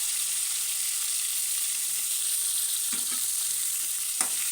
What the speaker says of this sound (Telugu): అవి మగ్గేదాకా మంచిగా నూనెలో వేపుకుందామండి